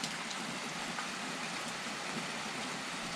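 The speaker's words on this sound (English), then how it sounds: "It's been raining like this for 45 minutes now." Steady rain has been falling for a long stretch, making an even, unbroken wash of patter that holds a constant level throughout.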